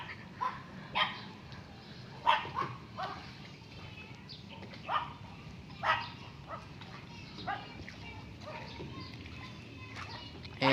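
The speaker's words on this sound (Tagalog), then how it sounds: "Ingay ng aso." Several dogs bark in short scattered bursts over a steady rumble while riding along a riverbank, some yips standing out louder, others farther off.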